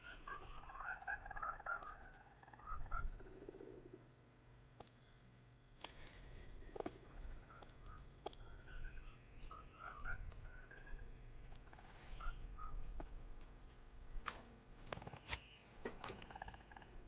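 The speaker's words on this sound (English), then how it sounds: "Oh yeah, we have tons of frogs in the world." Frogs croak in the Minecraft video game, quietly and intermittently across a low, faint ambient background, with scattered clicks and soft shuffling noises mixed in.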